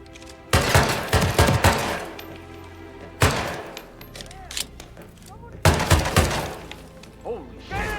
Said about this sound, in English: Holy shit, gunshot!